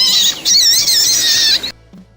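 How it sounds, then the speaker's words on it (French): A rabbit's loud, shrill, wavering squeal rises and falls continuously for under two seconds, then cuts off abruptly into near silence. "C'était le clapissement, couinement ou glapissement du lapin."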